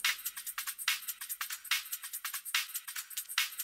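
Bright, crisp percussion loop for a Jersey Club track made in Ableton, with busy shaker-like hits and snappy accents repeating in a bouncy, driving rhythm, fairly quiet and heard alone.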